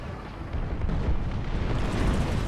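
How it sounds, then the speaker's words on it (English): Explosions from a War Thunder tank battle between American heavy tanks such as the M6A1 and M4A3: a dense, rumbling wall of booms and blasts, building louder after the first half-second and continuing without a break. "There's just so much explosions."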